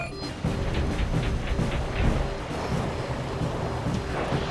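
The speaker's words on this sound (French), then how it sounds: "sacrée tempête" Rumbling stormy weather in an Octonauts cartoon, with a steady loud wash of wind and rain and low thunder-like rumbles throughout, no voices.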